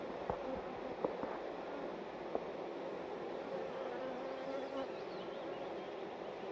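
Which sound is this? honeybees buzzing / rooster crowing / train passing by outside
honeybees buzzing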